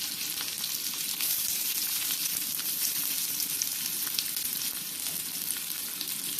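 Chopped onions fry in white oil in a wok with a continuous, close crackling sizzle. Small pops stay steady for the whole stretch, and no one speaks.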